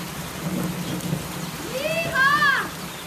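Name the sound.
heavy rain on a tin roof with thunder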